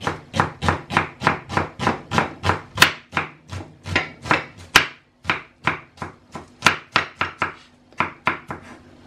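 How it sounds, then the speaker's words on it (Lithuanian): Onion being finely chopped with a knife on a cutting board, a quick steady series of sharp, close taps, about two per second, heard alone without speech. "Pjaustau smulkiai."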